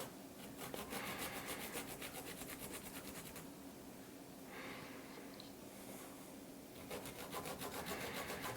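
Fresh ginger rubbed across a small zester-style grater in a kitchen, a quiet rhythmic rasping in steady strokes with a short pause midway, close but faint.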